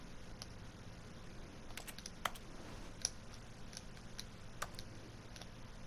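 In the video game The Stanley Parable, soft, irregular keyboard-like clicks sound faintly over a quiet background hum, with a few sharper taps standing out.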